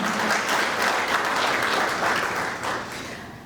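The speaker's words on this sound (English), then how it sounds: "give him a round of applause" A large crowd at a State of the City event in Gardena gives loud, continuous applause, a dense wash of clapping that fades slightly near the end.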